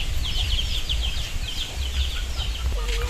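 Native chickens on a farm cluck and chirp in short bursts, moderately close, over a steady low rumble of background noise.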